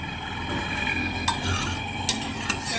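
Cooked matki sprouts being stirred in a pot for Kolhapuri misal, a steady scraping and rustling with a few sharp clinks of the spoon against the metal rim, close and moderately loud, with no talking.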